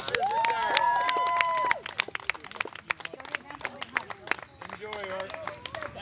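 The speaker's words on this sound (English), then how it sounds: "let's give Gard a big round of applause" Applause and cheering from a crowd at an outdoor retirement roast for Gard in Cook's Forest, a dense patter of claps with hubbub and voices talking over it throughout.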